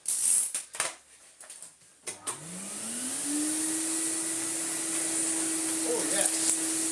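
A Miele S424i vacuum cleaner starts up after some handling clatter, its motor whine rising and then settling into a loud, steady drone that runs to the end, with faint knocks over it.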